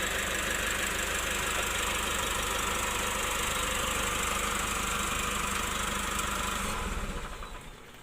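Diesel engine of a Nissan Navara NP300 running steadily during injector cleaning, a loud continuous idling rumble with knocking texture, close up, that fades as it is switched off near the end.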